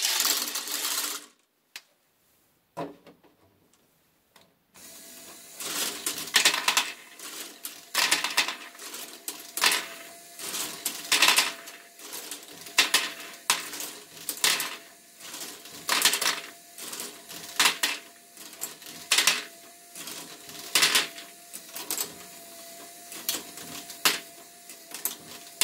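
A LEGO Great Ball Contraption module built as a Hoecken linkage from Technic set 42093, with a wheel counterweight, runs with steady plastic clicking and rattling of balls and parts, fairly close, after a brief quiet start.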